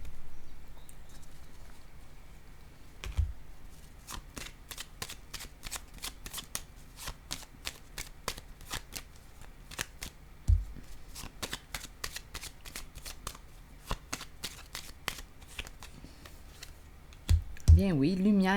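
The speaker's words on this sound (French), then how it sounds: "Je vais déposer une autre carte ici." Tarot cards are shuffled with a quick, steady run of soft riffling snaps, close and fairly quiet. A few firmer taps come as cards are set down, and a voice is heard speaking faintly near the end.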